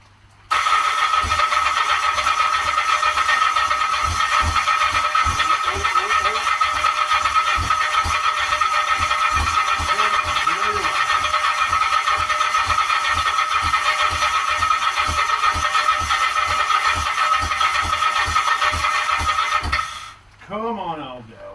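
A Kawasaki GT750 project motorbike engine turns over and runs with a loud, steady rapid beat for about twenty seconds, close by, then cuts out abruptly near the end.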